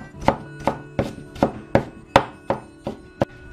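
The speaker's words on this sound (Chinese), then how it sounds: "把它们切成蒜末" A knife mincing peeled garlic on a cutting board, about nine sharp, evenly spaced chops, close and distinct with nothing else heard.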